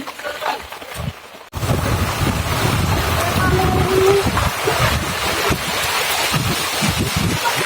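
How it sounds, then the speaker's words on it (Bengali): Heavy rain and strong wind during a cyclone in Bangladesh, a loud roaring wash with gusts buffeting the microphone close by, continuous after a brief cut near the start. "প্রচুর বৃষ্টি আর বাতাস প্রচুর বৃষ্টি বাতাস ডুবে যাচ্ছে সব কিছু"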